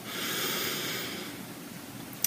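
One slow, deep inhale through the nose during guided meditation, soft and airy, ending in a tiny click.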